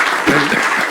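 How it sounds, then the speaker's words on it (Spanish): A brief burst of applause from an audience at a strategy talk, dense and fairly loud, with a voice briefly sounding through the clapping. "le damos mucho aplauso"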